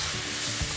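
Vegetables for Hakka noodles are stirred in a hot pan, a short burst of steady sizzling with a scrape or clatter of the utensil near the end.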